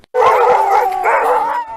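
Sled dogs howling loudly and close, a sustained wavering howl that briefly dips and rises again before fading, with no voices over it.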